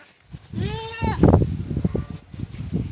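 Goats on a goat farm bleat close by, one drawn-out wavering cry followed by rough shorter bleats amid shuffling and handling noise.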